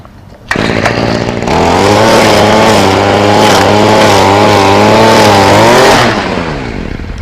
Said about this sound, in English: I'm going to take the weed whacker side to side while it's once again locked into my elbow at the set height.